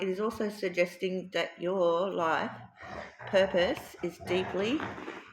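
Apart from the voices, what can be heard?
None of the usual background noises is heard.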